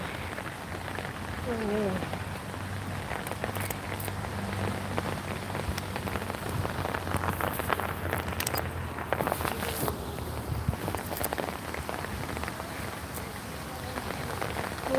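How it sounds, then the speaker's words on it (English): Steady rain falls on a dark cloudy day in Korea, a dense continuous patter on surfaces with footsteps hurrying through it and a brief voice speaking. "So that's why I brought my umbrella, and it's raining."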